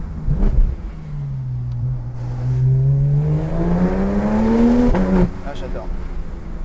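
A Porsche 991 GT RS engine revs hard through PDK gear changes, its rising note building steadily before a sharp crack at the upshift, then climbing again close by.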